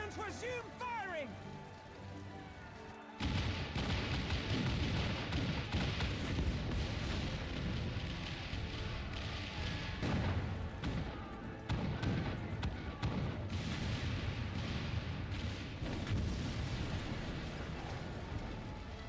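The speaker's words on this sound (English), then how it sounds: "All cannons resume firing!" Cannons fire in a battle scene in Final Fantasy XIV, booming blasts and crackling bursts layered over dense battle noise, music and voiced dialogue throughout.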